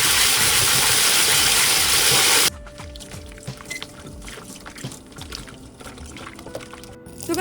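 Baking soda, white distilled vinegar and water fizz loudly around strawberries being cleaned, a dense rushing hiss for about two seconds that cuts off abruptly, leaving faint, quiet background sounds.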